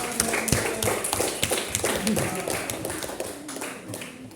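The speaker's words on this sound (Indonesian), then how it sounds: "Tepuk tangan" Schoolchildren in a classroom clapping their hands, a dense run of close, sharp claps lasting a few seconds with voices mixed in.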